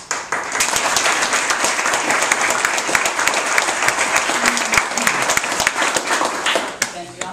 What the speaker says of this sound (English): I'm not used to getting applause while I speak.